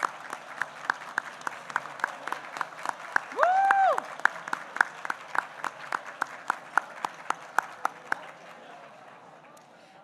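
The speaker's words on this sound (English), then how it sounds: "Let's give them a round of applause." At a credit union Hall of Fame induction ceremony, an audience claps in a quick, steady rhythm for several seconds while someone lets out a brief whoop, then the clapping thins and fades near the end.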